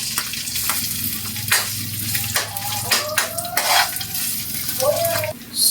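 Ginger frying in cooking oil for chicken tinola in coconut milk, a loud close sizzle with several clinks and scrapes of a utensil against the pan.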